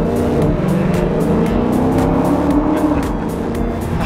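A Ford Bronco driving through a tunnel with a quiet exhaust, a steady, loud engine drone that echoes off the tunnel walls and stays even from start to finish with no talking.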